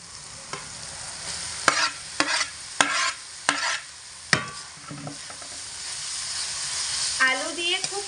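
Grated potatoes fry with spices in a pan while a spatula stirs in repeated loud scraping strokes over a constant sizzle, close and without voices.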